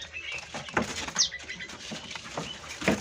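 Songbirds, including canaries, chirp and call from cages at a bird market stall, with short bright notes scattered over a busy, close background bustle.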